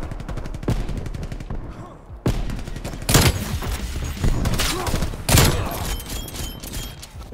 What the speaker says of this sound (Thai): ปืนมันยิงเร็วมากเลย